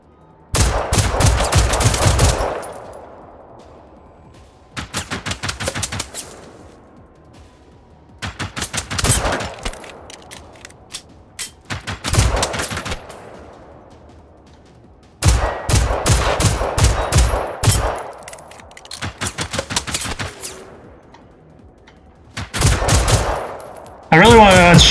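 Bursts of automatic gunfire from hostile robots in the game Generation Zero, loud rapid volleys arriving in repeated waves of a few seconds each, separated by short quiet gaps, with no talking over them.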